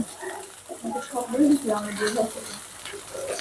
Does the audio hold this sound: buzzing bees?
no